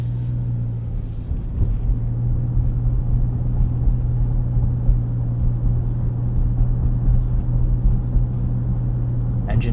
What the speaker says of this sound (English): Engine here is quiet.